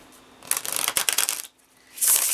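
Tarot of Delusion deck cards shuffled by hand, two bursts of crisp riffling and flicking with a short pause between, close and fairly loud, no talking.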